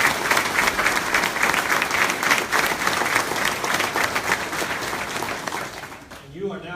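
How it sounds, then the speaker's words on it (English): Loud, sustained applause from a crowd at a police academy graduation, dense clapping that continues for several seconds before tapering off abruptly at the end. "let's give them a big round of applause"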